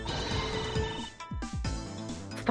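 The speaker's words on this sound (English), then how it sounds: "Oh, a potential phone call," A phone rings in the Ace Attorney Investigations video game with a bright electronic trill. Plucky game music and short sound effects follow.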